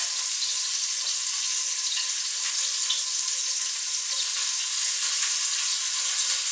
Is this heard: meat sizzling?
yes